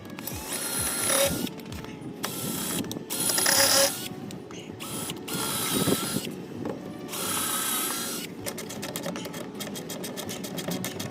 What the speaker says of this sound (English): So we're going to be putting 4 screws in there.